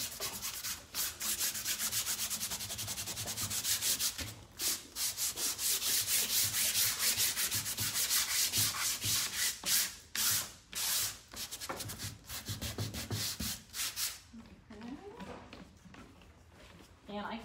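Sandpaper rubbed by hand over a vintage suitcase, a steady rhythmic scratching of quick back-and-forth strokes with brief pauses, close and continuous throughout.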